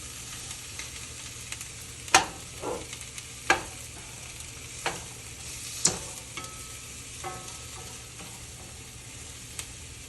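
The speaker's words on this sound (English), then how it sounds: "So here's the mushrooms going in over here. I'll pre-saute them a little bit." Mushrooms sauté in oil in a pan with a continuous low sizzle, broken by several sharp clacks and scrapes of stirring spaced irregularly, close and fairly quiet, with no talking.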